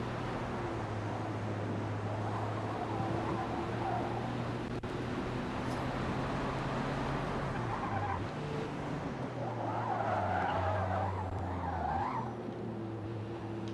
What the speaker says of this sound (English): I love the quiet car sounds, man.